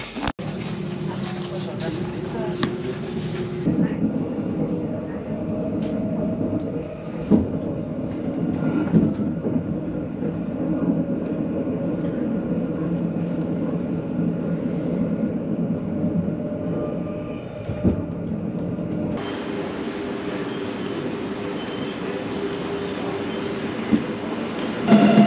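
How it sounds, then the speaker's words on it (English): A Swiss train propelled from its driving trailer rumbles along from inside, a steady ride with wheel squeal and track noise throughout, and a brighter high whine joining near the end. "this train's now going to be propelled, so the driving trailer that the person's now in is going to be actually driving."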